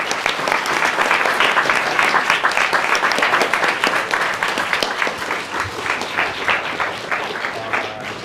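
An audience at a public speaking competition grand final gives a speaker a round of applause: a full, steady wash of many hands clapping that loosens slightly toward the end.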